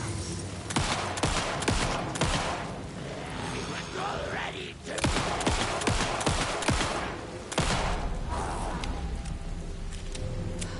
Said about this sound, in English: Bro, how many times we gotta shoot these fools?